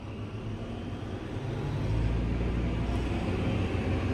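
Fendt silage harvester engine revving under throttle, a heavy low rumble that swells noticeably halfway through and then holds as a loud, steady deep drone.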